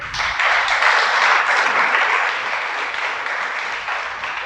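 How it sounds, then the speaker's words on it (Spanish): A congregation applauds at a church sermon, with a loud, steady wash of many hands clapping together, sustained throughout and dipping only slightly toward the end. "Denle un aplauso al Creador."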